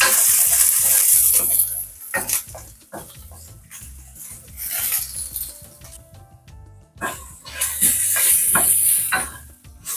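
Onions sautéing in a pan in a home kitchen, bursts of sizzling broken by spoon stirring and scraping, with quieter gaps between the louder frying stretches.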